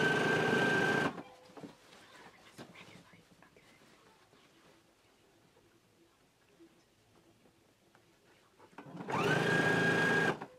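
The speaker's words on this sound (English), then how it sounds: "fold it over, and stitch really close to the folded edge of the bias tape" A sewing machine runs in two loud, steady bursts at the start and end while stitching bias tape along garment shoulder seams, with quieter handling noises and soft whispering in between.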